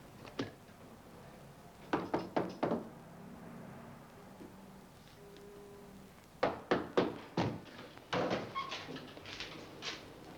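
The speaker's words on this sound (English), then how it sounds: "Save your knocks." Knuckles rap on a door in an empty building, coming in quick clusters of three or four sharp knocks separated by pauses, moderately close over a low background hum.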